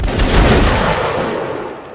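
A musket volley in Mount and Blade Napoleonic Wars erupts as a loud, dense crackle of many shots merging into one rolling boom that slowly fades over two seconds.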